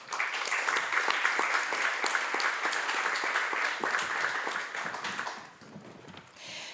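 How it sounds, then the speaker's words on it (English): A conference audience at a textile-sector sustainability event claps loudly and steadily as a panel of experts walks onto the stage, the applause thinning out and fading toward the end. "Big applause."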